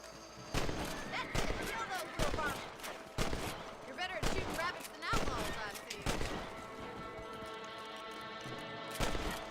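Rifle shots ring out in the western game Red Dead Redemption, about a dozen sharp cracks spaced irregularly across the scene with echoing tails, mixed with a horse's hoofbeats and voices talking in between.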